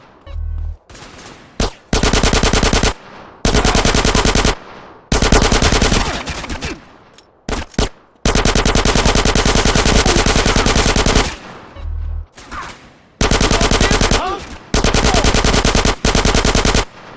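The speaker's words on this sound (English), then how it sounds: "Who's shooting?" Heavy automatic gunfire in GTA San Andreas erupts in long, loud, rapid bursts broken by short gaps, stuttering close and relentless across the fight at a mansion.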